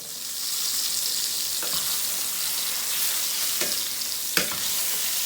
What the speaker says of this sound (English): So we are going to brown them on both sides.